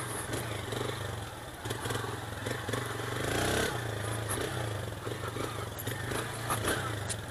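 A Honda Titan 160 motorcycle ridden slowly along a muddy trail, its mid-pitched engine running steadily with small rises in revs and some clattering from the bike, fairly close throughout.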